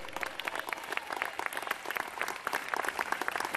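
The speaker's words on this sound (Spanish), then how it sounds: "Denle ese aplauso a Cristo." A church congregation applauding during a Spanish-language sermon, a dense, steady patter of many hands clapping together at moderate distance, continuing throughout.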